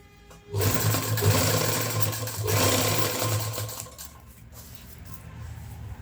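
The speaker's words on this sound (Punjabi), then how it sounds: "ਆਪਾਂ ਹੌਲੀ ਹੌਲੀ ਸਲਾਈ ਲਗਾਉਂਦੇ ਨੇ ਜਾਣਾ" A sewing machine stitches a zip onto a coat, its loud steady motor whir starting abruptly after a brief pause and running continuously, easing slightly toward the end.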